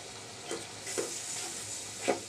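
Garlic paste stirred in a hot pan, faint steady sizzling with three soft scraping strokes of a spoon at roughly even intervals.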